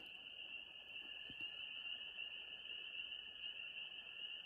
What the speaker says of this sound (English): There's another kind of frog.